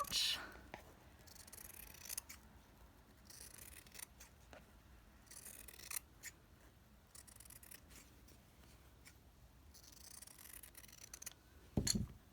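Quiet snipping and crunching of scissors cutting through fabric, several cuts spread out with soft rustling between them.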